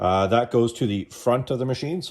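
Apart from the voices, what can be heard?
No distinct noise like a dog, phone or traffic.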